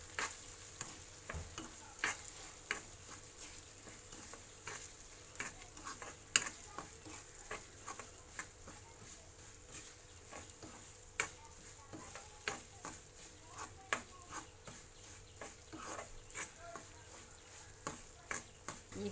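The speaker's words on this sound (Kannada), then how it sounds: "ಈಗ 3/4 ಗ್ಲಾಸು ಬೊಂಬಾಯಿ ಸಜ್ಜಿಗೆ ಹಾಕ್ತೇನೆ. ಅದು ಚೆಂದ ಮಾಡಿ ಹುರ್ಕೊಳ್ತೇನೆ." Bombay semolina stirred and roasted in ghee with banana in a pan, a soft steady sizzle broken by regular scraping taps of the spoon against the pan.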